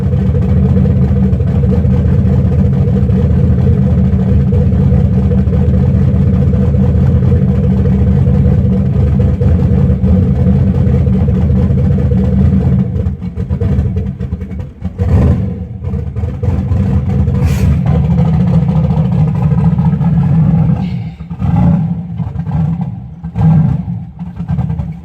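A Caprice LS Turbo running with Microsquirt cold-start enrichment, a steady loud low engine drone for most of the time, turning rougher and more uneven toward the end.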